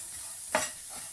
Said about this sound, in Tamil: இதே நெய்யில் நம்ம என்ன பண்ணிக்கலாம்னா இந்த அவலை போட்டு வறுத்தெடுத்துக்கலாம்